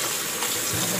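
Pork feet being rinsed under a running kitchen tap, a steady close stream of water splashing and gushing for about a second with no talking.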